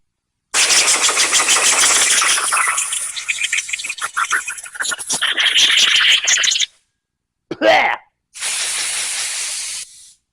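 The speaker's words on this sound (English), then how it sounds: "That's about 5 minutes in the trusty and always dusty soda blast cabinet" A soda blast cabinet roars with a loud, steady hiss as it blasts carbon off an engine valve. The hiss cuts out, gives one short burst, then resumes for a last few seconds.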